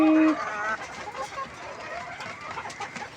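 Layer hens cluck up close, with a short tonal call at the start followed by a run of overlapping, uneven clucks and soft chatter from the flock.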